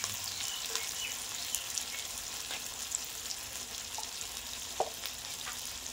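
Tomato paste added to a spice paste frying in oil for a prawn malai curry, a continuous soft sizzle with occasional light stirring clicks, close but fairly quiet.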